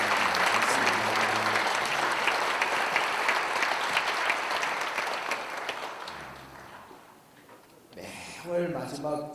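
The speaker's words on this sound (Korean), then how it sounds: "우리 격려의 박수 한번 드리겠습니다." Members of a church congregation clap in encouragement during a Sunday service, a full burst of applause that gradually fades out before a voice resumes speaking.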